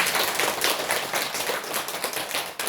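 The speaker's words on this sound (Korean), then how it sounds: "큰 박수 부탁드립니다." An audience at a monthly dharma service in a Buddhist temple claps in a dense, even burst of applause that lasts a few seconds.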